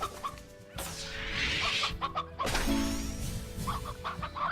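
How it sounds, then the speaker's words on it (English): Video game chickens in Slime Rancher cluck and squawk in several close bursts, with a brief crash-like flutter between them. "I want to get rid of these chickens."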